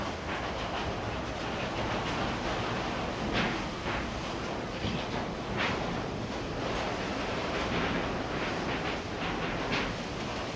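Heavy rain and wind from Typhoon Tino roar without a break outside a house as water gets inside, a dense loud wash with gusty surges.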